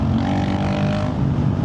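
A Honda CRF450RL dirt bike with a loud aftermarket exhaust and a Stage 2.0 tune revs up close, a brief, dense, throaty roar that holds steady without a pause.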